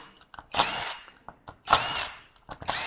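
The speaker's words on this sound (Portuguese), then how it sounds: "Vou soltar os parafusos aqui em cima." A power tool loosens screws on top of a pressure regulator body, running in three short whirring bursts with brief pauses between, close and fairly loud.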